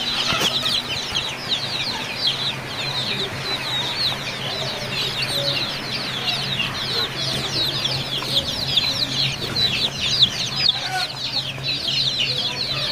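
A flock of chickens, including native desi hens, clucks and calls continuously on a poultry farm near Muktagacha in Mymensingh, a dense, steady chorus of overlapping clucks and squawks with no talking.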